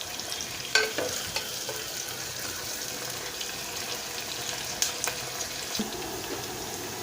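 Onions and coarsely crushed garlic fry in a pan for a dal with mixed vegetables, a steady close sizzle broken by a few sharp clinks and stirring scrapes, with no voices over it.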